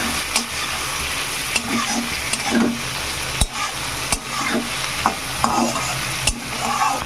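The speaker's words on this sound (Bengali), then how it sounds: "করলাগুলোকে প্রথমে তেলে ভালো করে ভেজে নেবো তাতে রসুন আর পেঁয়াজটাও ভাজা" Bitter gourd frying in oil with garlic and chili, a steady close sizzle broken by scraping stir strokes and sharp utensil knocks against the pan.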